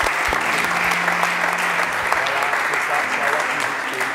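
Audience applause fills the whole stretch, steady and fairly loud, following a children's music performance at a French-language church broadcast, with a faint voice briefly audible beneath the clapping.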